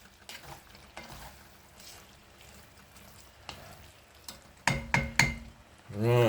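A spoon scrapes and stirs cottage pie filling frying in a pan: a soft, steady sizzle runs under scattered scrapes, then a few louder knocks and clinks against the pan near the end.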